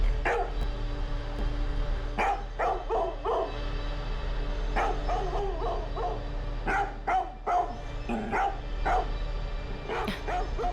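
A pet dog named Tessie barks repeatedly in bursts of short, sharp woofs and yips, fairly close, with brief pauses between volleys and no voices.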